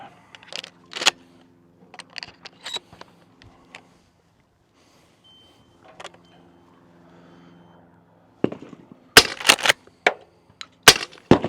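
A suppressed Mossberg 500 Hushpower 12-gauge shotgun fires clay and subsonic shells outdoors, each shot a short, muffled crack, first a few scattered shots, then a quicker cluster of sharp reports with mechanical clicks between.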